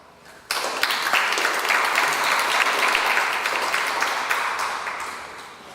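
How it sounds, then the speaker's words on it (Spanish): A room of attendees at an academic conference on the El Niño phenomenon bursts into warm applause, sudden and loud, then sustains a dense, even clapping for several seconds. "Recibamos con un caluroso aplauso al doctor Juan García Quijano."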